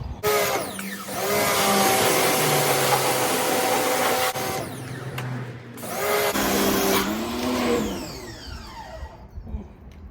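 A pressure washer on high pressure spraying down a racing lawnmower, a loud close whine with its pitch dipping and rising, cutting out briefly midway before starting up again.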